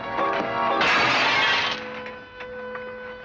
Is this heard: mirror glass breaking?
yes